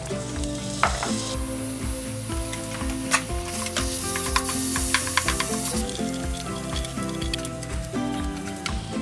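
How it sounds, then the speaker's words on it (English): Ground turkey and onions sizzle in a pan greased with coconut oil, a steady loud crackle with sharp spitting pops and occasional stirring clatter, no voices over it. "And I'm gonna brown up my turkey with some onions."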